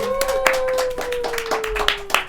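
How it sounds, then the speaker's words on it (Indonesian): A small studio audience claps for a guest on a talk show, giving a short burst of scattered, uneven claps. A steady whistling tone runs beneath the claps. "Tepuk tangan dong buat Mas Abi."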